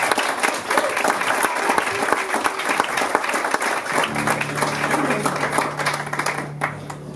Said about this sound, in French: J'aimerais ça qu'on l'accueille lui aussi avec une bonne main d'applaudissements.